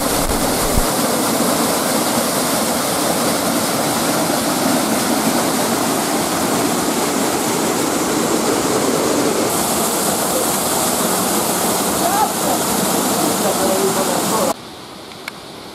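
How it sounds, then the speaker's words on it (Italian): The Marasa waterfall in Aspromonte, heard from above, pours with a dense, steady roar that fills the whole stretch at high level and barely changes before cutting off abruptly near the end. "E questa è la cascata Marasa vista dall'alto."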